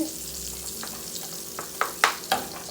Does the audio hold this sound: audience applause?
no